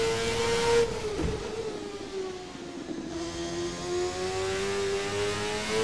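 An IndyCar engine in the racing game Assetto Corsa revs and holds a high droning pitch, dipping after a gear change and climbing again, close and continuous with no talk.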